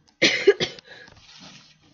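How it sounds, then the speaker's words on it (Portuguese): Close, loud coughing, two sharp coughs followed by a softer, raspy throat-clearing tail. "Até me dá tosse."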